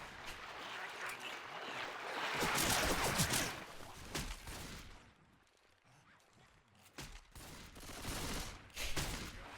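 Faint, dense gunfire crackles in a Left 4 Dead-style game, swelling into sustained volleys and then thinning to scattered shots, with voices talking over it.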